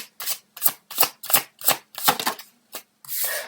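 Tarot cards being shuffled by hand, with about eight quick rhythmic riffles close by and a longer rustle of cards being drawn at the end, no voices.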